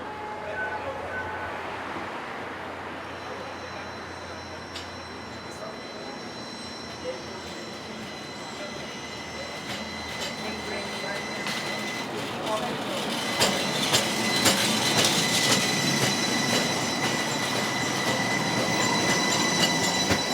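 DC Streetcar tram rolling along the rails at its launch in Washington DC, a steady rumble that grows louder partway through, with high metallic wheel squeal ringing over it as it passes close by.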